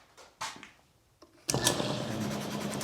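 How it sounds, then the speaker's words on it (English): An air compressor starts abruptly and runs steadily nearby, supplying a shop-made vacuum chuck on a woodturning lathe; a few clunks of mounting a plate come before it. "I'll just have to turn the compressor on."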